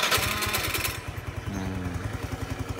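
A Suzuki Address Elegant scooter, with a newly replaced throttle body, starting up and then settling into a steady, rhythmic idle heard close by.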